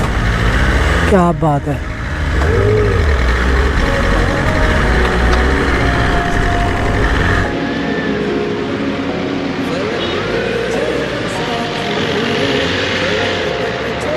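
BMW S1000RR superbike engine running steadily with a quick rev near the start, loud and close, while someone talks excitedly over it.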